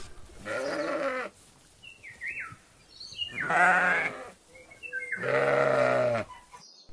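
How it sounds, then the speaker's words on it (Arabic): Sheep on a farm bleating three times, long quavering calls with short quiet gaps between them, close and clear with faint bird chirps in the background. "خروف."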